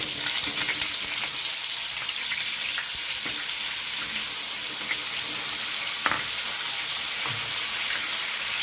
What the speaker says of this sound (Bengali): এখন ভেজে নিচ্ছি হালকা করে পনিরগুলো